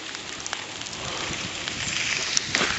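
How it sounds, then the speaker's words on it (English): Sleet pelting the ground and surfaces during a winter ice storm in Paris, Texas, a steady dense hiss with scattered ticks of ice pellets, continuous and moderately close with no voices. "Right now we're getting some sleet."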